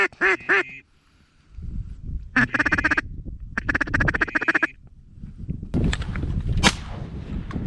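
Duck hunt outdoors: a few quick duck quacks or calls at the start, bursts of calling in the middle, then one sharp, loud shotgun blast near the end over a noisy background.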